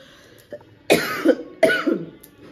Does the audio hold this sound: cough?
yes